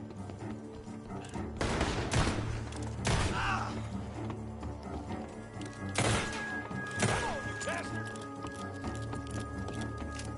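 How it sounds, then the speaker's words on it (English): Scattered bursts of gunfire crack at a distance from a barn in Red Dead Redemption 2, several separate volleys among faint background noise and movement. "The gunshots are coming from that barn."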